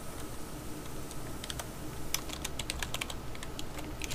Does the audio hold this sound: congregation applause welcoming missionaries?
no